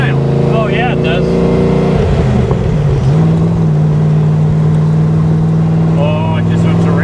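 Supercharged 1965 Factory 5 Cobra with 3.73 rear gears and positive traction, its engine loud and close as it revs and climbs to a steady, high drone, with people's voices briefly heard over it.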